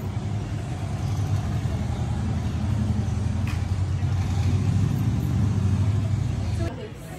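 Pre-Rushmore Harley-Davidson motorcycle engine idling with a loud, close, steady low rumble that cuts off abruptly near the end, leaving quieter background.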